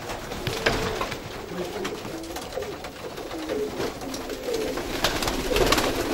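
Pigeons coo repeatedly nearby in a loft, soft low throaty calls overlapping with rustling and light bird movement, the cooing steady throughout with no speech.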